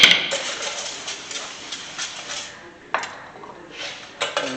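Old metal brake hardware comes off a 2006 Chrysler 300 in a garage, with light clinks and scraping and a few sharper metallic taps spaced a second or two apart.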